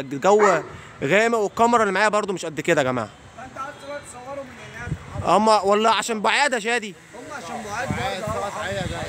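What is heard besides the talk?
No distinct noise like a dog, phone or traffic.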